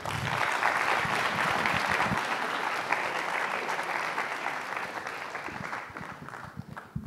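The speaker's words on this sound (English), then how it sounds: "So please give a big round of applause to Aaron Liu, a Ph.D. student from MIT." Audience applause fills a charity science lecture hall after a guest, a Ph.D. student, is introduced: dense, steady clapping from a crowd that holds for several seconds, then slowly thins toward the end.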